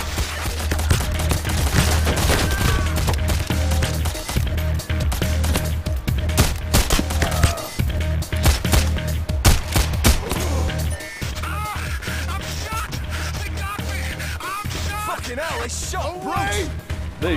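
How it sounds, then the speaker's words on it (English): Dense, sustained gunfire from the video game Payday The Heist during a street fight past a police blockade, rapid overlapping shots and bursts throughout, loud and close, with voices talking over the shooting. "They shot Bruce"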